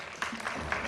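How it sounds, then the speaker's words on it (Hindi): A studio audience at The Kapil Sharma Show applauds actor Piyush Mishra during a film promotion. The clapping is a brief, dense burst of many hands that stays steady for about a second. "उनके लिए भी जोरदार तालियां हो जाएं"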